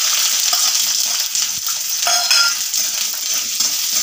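Garlic, ginger and shallots sauté in a hot clay pot with a bright, steady hiss, and a brief scrape of stirring partway through, close and loud, with no voices.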